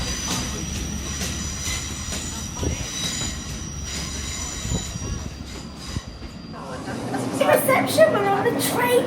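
A train runs on rails with metallic wheel squeal and steady rumble, heard from inside a carriage on a school trip in Costa Rica. Children's voices and talk rise over the noise toward the end.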